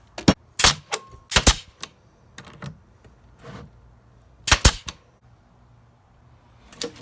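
A nail gun fires into wooden boards while a Christmas tree box collar is being built. Sharp, close bangs come in small clusters, a few shots together, then a pause before another pair.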